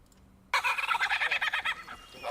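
A bird mimicking a kookaburra call, a loud, rapid run of cackling, gobbling notes that starts abruptly after a near-silent moment and slowly fades.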